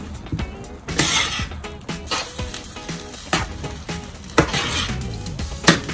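Ketchup is mixed into a corned beef patty mixture in a bowl, with a spoon clinking and knocking against the bowl in irregular, fairly close strikes and soft scraping between them. Nobody speaks.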